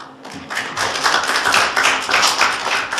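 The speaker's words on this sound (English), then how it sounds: "So I want to clap." Audience applause fills a room at a school board of education meeting in Ste. Genevieve, Missouri, a dense, even wash of many hands clapping, loud and sustained throughout.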